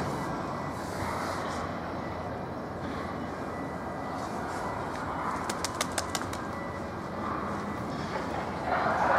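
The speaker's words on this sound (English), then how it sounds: "There's the pigeons, they're nice." Pigeons at a dry dock in Belfast, with soft cooing and a brief burst of wing flaps over a steady hum of distant ambient noise.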